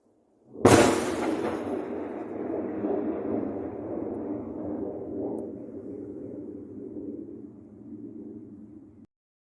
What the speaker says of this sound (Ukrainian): вибухів було дуже багато порівняно з останнім разом